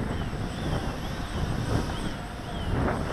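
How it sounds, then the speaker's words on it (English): Steady wind rumbles and buffets across the microphone during a flight of an Emax Nighthawk Pro 280 drone, a continuous broad roar with a faint high motor whine underneath. "this wind is really messing with me"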